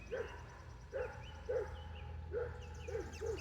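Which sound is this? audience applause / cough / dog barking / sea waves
dog barking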